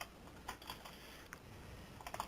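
Fingers tap a computer keyboard in quiet, irregular bursts of light clicks, close and soft with no talking.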